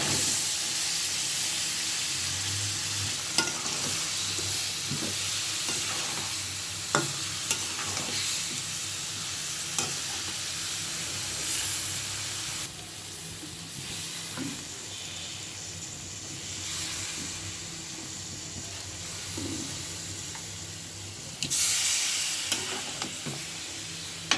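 Catla fish curry with cauliflower, potato and spiced masala bubbles in a pan with a continuous hissing sizzle, punctuated by occasional stirring clinks and scrapes over a long stretch.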